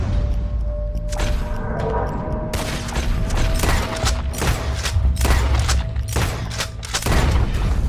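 Red Dead Redemption 2 shootout: a rapid series of loud, close gunshots in irregular volleys after a brief quieter lead-in, with booming impacts and dense battle noise throughout.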